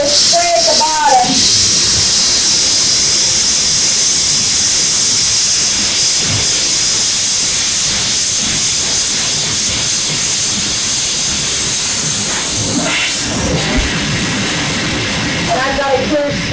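A pressurised spray hisses steadily while flushing a surgical instrument in a hospital central services decontamination area, a loud close continuous rush with small shifts as the nozzle moves and faint voices underneath.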